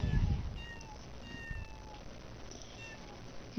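A cat in The Sims 4 meows several times in short, thin calls, moderately close over a faint game background.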